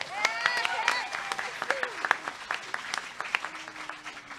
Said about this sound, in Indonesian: Tepuk tangan sekali dong.